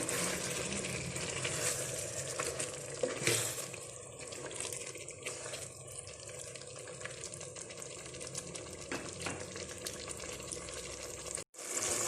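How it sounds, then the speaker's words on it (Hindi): Mutton karahi with tomatoes frying in a pan, a dense continuous sizzle with occasional stirring scrapes, loud and close throughout with a brief cut near the end. "टमाटर डाल के भी हमने इसको 1-2 मिनट तक भूनना है।"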